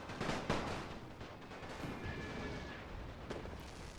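Gunfire from musket and artillery units in the Napoleon: Total War Great War WWI mod, a few sharp shots standing out at moderate level over a continuous rumbling battle din.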